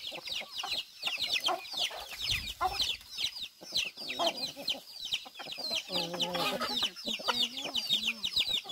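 Farm chickens cluck and squawk close by in a steady, busy chorus of overlapping calls, with a few louder rooster-like cries and faint human voices in the background.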